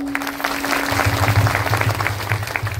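Audience members at a devotional kirtan in a temple gathering clap together, a moderately loud spread of claps over a steady low hum, with no words spoken.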